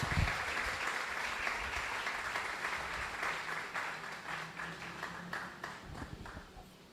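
Sustained applause from a church congregation during a Spanish-language worship service, steady and dense, filling the space from start to finish before gradually thinning toward the end.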